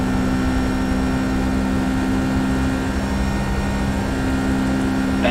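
Jet engines of a Boeing 757 freighter on the UPS cargo runway roll in X-Plane 11, a steady, loud, unbroken roar with a constant low droning hum and no voices.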